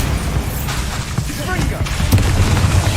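A Bombarda spell explosion in Hogwarts Legacy on hard mode, a deep booming blast amid dense, continuous combat noise and rumble, with voices heard in the mix.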